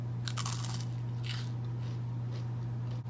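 Someone bites into a banana-flavored cupcake and chews it with soft crunchy, squishy bites, close to the microphone, over a constant low electrical hum.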